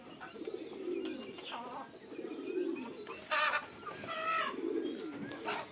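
Pigeons coo repeatedly at a rooftop pigeon house beside a chicken coop, soft throaty calls rising and falling over the background, with a few brief chirps in between.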